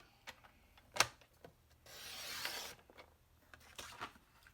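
Cardstock trimmed on a paper cutter, a soft sliding rasp of the blade across the sheet amid light handling clicks and rustles, quiet and close.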